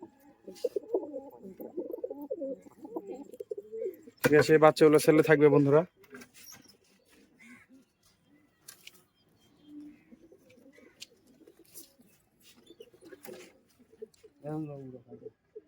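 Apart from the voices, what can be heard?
Giribaz pigeons of Murshidabad cooing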